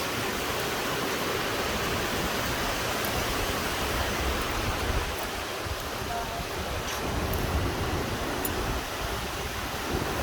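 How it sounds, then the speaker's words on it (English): Rainforest waterfalls pour in a continuous broadband rush, dense and steady like heavy falling water close by, with no pauses, filling the whole stretch at an even level. "There's waterfalls everywhere."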